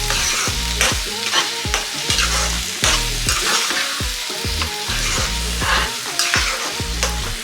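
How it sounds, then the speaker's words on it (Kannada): A spoon scraping and stirring thick pumpkin halwa with jaggery in a pan over medium flame, with repeated rhythmic scrapes over a soft constant sizzle, close and loud. "ಇದೇ ರೀತಿ ಇದನ್ನ ತಿರುಗಿಸ್ತಾನೆ ಇರಬೇಕು, ಇಲ್ಲಾಂದರೆ ತಳ ಇಟ್ಕೊಬಿಡುತ್ತೆ."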